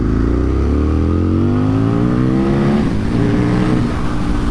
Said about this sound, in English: Back on the gas here.